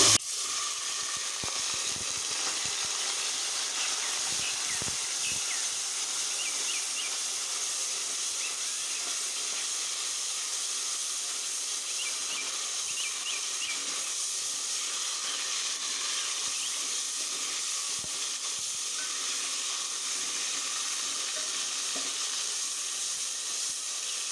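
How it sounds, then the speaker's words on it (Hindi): Water splashed into a pot of browned onions in hot oil, giving a steady, soft sizzle and hiss that continues evenly throughout, with faint crackles and no talking. "इसमें हल्का सा छौंका लगाएंगे पानी का।"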